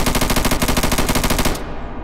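An AR15 rifle in a video game fires fully automatic, a rapid, even stream of loud close shots for about a second and a half before cutting off into a brief ringing tail.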